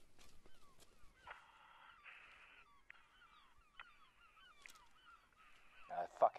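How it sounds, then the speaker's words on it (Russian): Seagulls calling in a zombie-survival video game, a string of nasal, honking squawks at moderate volume, some overlapping, ending in a louder burst of cries. "Чёртовы чайки."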